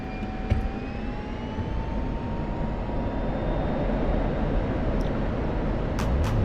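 An airplane rolls onto the runway and accelerates for a night takeoff, its engine roar building steadily with a rising whine, loud and close from inside the aircraft.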